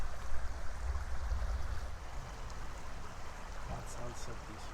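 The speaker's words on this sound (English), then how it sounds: "That sounds so peaceful. Very cool. Yeah, good river sounds." Flowing water of the American River at a bend, a steady broadband rush that stays close and fairly loud throughout, with a few faint high chirps near the end.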